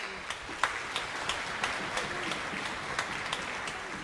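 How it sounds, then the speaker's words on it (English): An audience at a Cleveland School of the Arts concert claps in a scattered, moderate round of applause, individual sharp claps standing out over a soft continuous patter, heard at a distance in a hall. "Please give them a round of applause."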